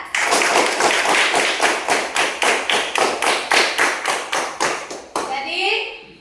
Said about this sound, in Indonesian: Tepuk tangan untuk Nita.